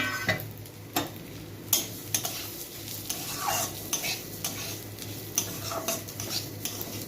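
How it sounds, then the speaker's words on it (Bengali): Moong dal frying in a little oil in a wok on a home stove, a steady low sizzle broken by repeated sharp scrapes and clinks of a spatula stirring against the metal, close and clear with no talking. "আজকে মুগ ডাল রান্না করব, তাই ডালটা ভাজবো।"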